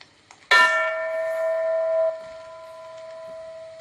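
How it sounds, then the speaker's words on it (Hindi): A single bell strike in a classroom lesson rings out loudly with a bright attack and a long, sustained humming tone that steps down and fades slowly, alone in a quiet room. "अब फिर घंटी बजेगी"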